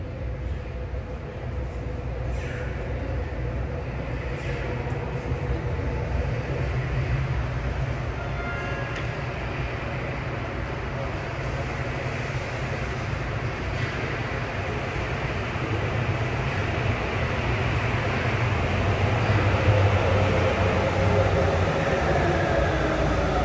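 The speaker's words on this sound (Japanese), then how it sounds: "1番ホームに真駒内行きが到着します" A subway train pulls into the platform at Asabu station, bound for Makomanai, its steady rolling rumble and hiss building gradually and growing slightly louder toward the end, with faint platform sounds over it.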